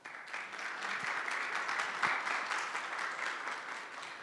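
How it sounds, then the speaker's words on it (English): Audience applause at a Guide Dogs for the Blind graduation ceremony, honoring the puppy raisers: a steady, dense wash of many hands clapping that holds at an even level for the whole stretch. "I'd love to get a round of applause for them."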